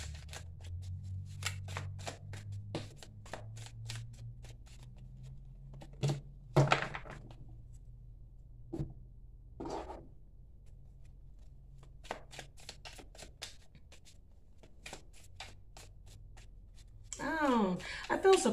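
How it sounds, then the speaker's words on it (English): Tarot cards are pulled and spread across a table in a string of soft slaps, shuffles and scrapes, close and quiet, with a burst of brisk card handling near the end. "bear with me because I'm about to pull all of these cards over here"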